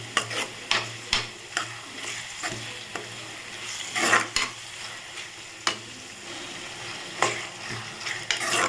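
Tomatoes and onions sautéing in a pan make a constant sizzle, broken by repeated sharp scraping stirs at an irregular rhythm, loud and close.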